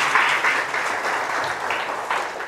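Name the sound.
audience applause at a university lecture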